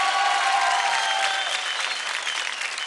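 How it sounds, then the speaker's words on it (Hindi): Audience applause for dancers Rajsmita and Mohina on a televised dance competition stage, a dense, steady wash of clapping from a large crowd that holds loud throughout and eases slightly toward the end. "क्या बात है, ज़्यादा तालियां हो जाए राजस्मिता और मोहिना के लिए।"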